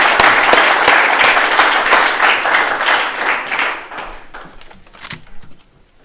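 Loud applause from a school audience at Buckley Country Day School's eighth grade speeches greets the next speaker, the dense clapping gradually thinning out to a few scattered claps.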